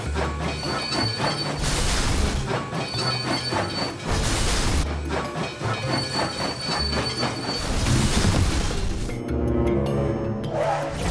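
Cartoon train rumbling close and loud with rhythmic clickety-clack, squealing wheels and mechanical clanks, steady throughout with bursts of brighter hiss.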